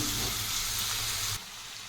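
Chopped tomato stirred into water amaranth leaves frying in a pan, a steady close sizzle with a soft hum that drops in level near the end; no talking.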